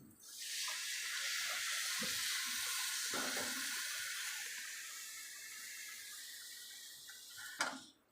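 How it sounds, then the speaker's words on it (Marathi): Hot water poured into a pan of frying dal tadka seasoned with turmeric and chilli, a steady broad hissing pour lasting several seconds, with a brief sharper splash near the end. "याच्यामध्ये गरम पाणी सोडायचं आहे"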